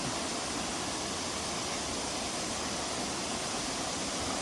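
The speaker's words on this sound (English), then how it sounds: "Pretty cool little waterfall on the side of the mountain here." Small waterfall spilling down a mountainside, a steady broadband rush of falling water that stays even and continuous throughout, moderately close and with no voices.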